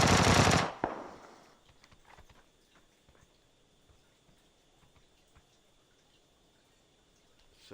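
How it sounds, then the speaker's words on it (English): Gunfire in a video game opens with a loud, close burst of rapid shots lasting under a second, then fades to faint, scattered clicks and light taps. "somebody just shot at me"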